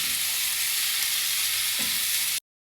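Tofu and meat frying in a pan with fish sauce for lomi, giving a steady, close, hissing sizzle that runs unbroken before cutting off abruptly near the end.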